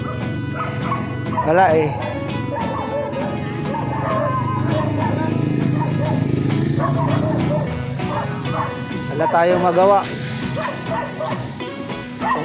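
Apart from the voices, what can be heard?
dog barking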